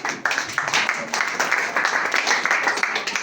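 A church congregation claps and applauds in praise, a dense and continuous patter of many hands that stays steady and fairly loud throughout, with a voice partly mixed in.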